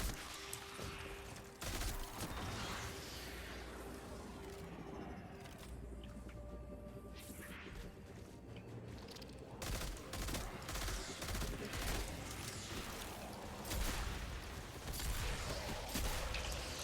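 Gunfire in the video game Destiny 2, with repeated sharp shots and bursts cutting through a dense, noisy game soundscape over a mission playthrough.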